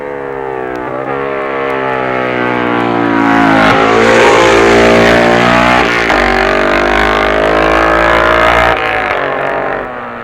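A Norton racing motorcycle at the 1966 Isle of Man TT, taking Signpost Corner near the end of the race, swells in loud and close with a strained, rising engine howl, then recedes as the note drops.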